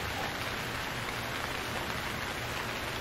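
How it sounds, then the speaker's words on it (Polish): In the survival game Stranded Deep, rain falls on a shelter with a holed roof, a constant even wash of drops with no talking. "Chyba mnie deszcz zaleje."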